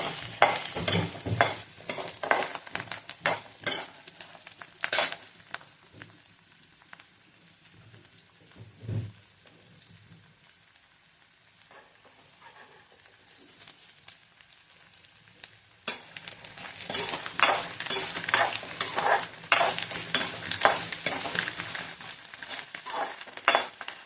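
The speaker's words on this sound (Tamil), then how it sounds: "இப்போ பூண்டு நல்லா செவுக்கணும் எண்ணெயில" Garlic frying in oil for a South Indian pirandai thovaiyal, with a steady close sizzle and scraping stirs. The sizzle eases in the middle and then comes back dense and loud, with no voices.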